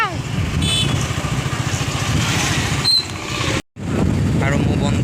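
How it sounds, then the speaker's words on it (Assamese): A motorbike ridden on a road hums with a steady engine drone and wind rush throughout, briefly cutting out near the end before resuming, loud and close with no talk. "মোৰ বন্ধুৱে বাইকখন চলাই আছে, আমি আহি আছোঁ"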